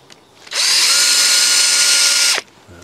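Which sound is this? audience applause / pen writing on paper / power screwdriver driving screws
power screwdriver driving screws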